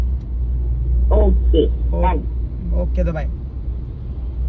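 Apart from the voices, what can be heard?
heavy traffic passing on a bridge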